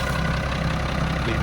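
A Schlüter E7800TV tractor idles, its 6-cylinder 7.1-litre turbocharged engine giving a steady, close, uniform low rumble with no speech.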